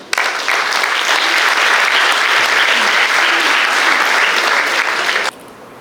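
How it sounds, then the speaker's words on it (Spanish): Loud, dense applause from an audience at an inaugural lecture, sustained evenly for about five seconds before cutting off abruptly to quiet room tone. "pido un fuerte aplauso"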